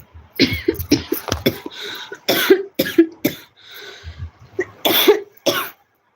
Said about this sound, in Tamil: இந்த இருமல் எப்படிதான் வந்து ஒட்டுச்சுன்னு தெரியல